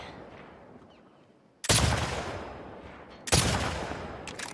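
Two loud, sharp rifle shots fired at a road sign in The Last of Us Part II, each a sudden broadband crack with a long echoing tail, spaced about two seconds apart over quiet ambience.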